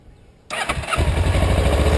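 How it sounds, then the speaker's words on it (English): A motorcycle engine starts after a brief quiet moment, catching with a sudden burst and settling into a steady, loud rumbling idle nearby, with no talking. "Let me turn the bike on."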